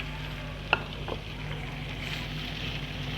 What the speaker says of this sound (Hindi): अब शिमला मिर्चें और प्याज है वो इसके अंदर डाल के